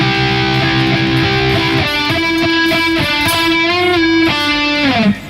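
A guitar plays the solo from a song at a very slow tempo, with loud, distorted sustained notes that shift pitch in steady steps and bend near the end, alone with no talking.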